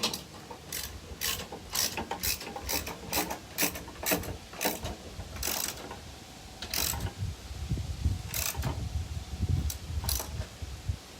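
A hand ratchet tightens the jacks during a ProPride trailer hitch installation, producing rapid bursts of sharp, close metallic clicks in uneven runs, with low clunks and handling noise underneath and no talking.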